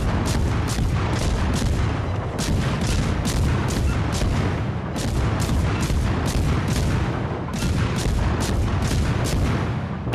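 Rapid, loud naval gunfire from a USS Fletcher destroyer in a naval battle video game, booming salvos repeating in quick rhythmic bursts over a constant roaring background, with no talk.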